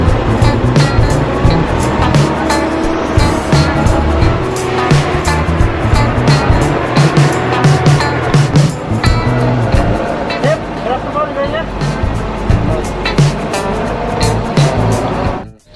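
A Nissan Terrano converted from 4x2 to 4x4, driving in 4L low range and first gear, gives a loud, steady engine drone with rumbling drivetrain noise that runs through the whole stretch and cuts off at the end.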